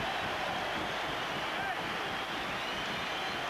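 Fans roar at a Leicester City football match as a goal-scoring hero leaves the pitch, a steady, distant wash of crowd noise with no distinct voices, blurred almost like surf.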